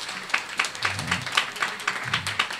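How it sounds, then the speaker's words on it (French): Scattered clapping from a church congregation during a French-language sermon, a few hands beating in an uneven rhythm for about two seconds, moderately close in a reverberant room. "nous devons applaudir pour Jésus-Christ"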